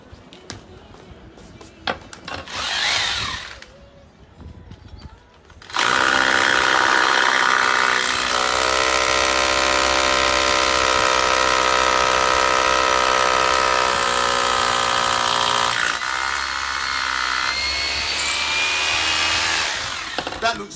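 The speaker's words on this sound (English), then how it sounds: "I will drill another hole and until it does grip" A power drill boring a hole in a wall of an old seafront building, heard as a loud steady whine that runs for about fifteen seconds after brief handling noises and a short burst.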